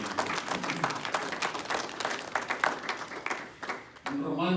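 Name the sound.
congregation applauding in church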